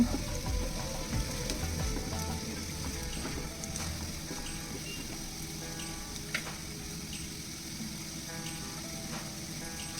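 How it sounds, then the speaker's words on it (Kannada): Turmeric powder fries in a pan until light brown as part of making kanda poha, a quiet, continuous sizzle with faint ticking and stirring sounds. "ಈಗ ಇದಕ್ಕೆ ಒಂದು 1/4 ಚಮಚ ಅರಿಶಿಣದ ಪುಡಿ ಹಾಕ್ಕೊಂಡು ಚೆನ್ನಾಗಿ ಅದನ್ನು ಫ್ರೈ ಮಾಡ್ಕೋಬೇಕು"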